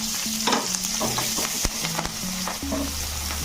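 Cumin seeds and green chillies frying in hot oil in a village kitchen, a steady close sizzle broken by sharp clinks of a stirring spoon against the pan, with no voices.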